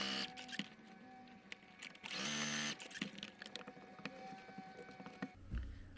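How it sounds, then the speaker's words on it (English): A sewing machine stitches along the edges of a quilted scrap-fabric journal cover, soft mechanical whirring in short bursts with a louder stretch of running in the middle, broken by small clicks and handling noises. "So now I'm going to sew those edges."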